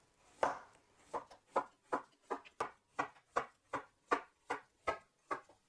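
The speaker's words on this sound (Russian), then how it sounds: "теперь подготовим огурец. Тонкими слайсами нарезаем кружочки." A knife slicing through cucumber on a board, about a dozen crisp, evenly spaced cuts in a steady rhythm, close up and quiet.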